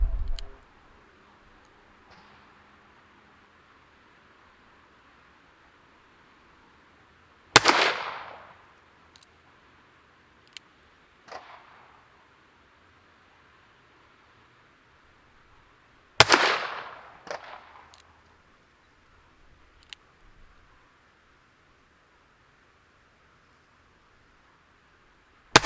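.357 Magnum revolver rounds firing wadcutter ammunition outdoors: two loud, sharp shots spaced several seconds apart, each followed by short echoes and small clicks, with quiet between.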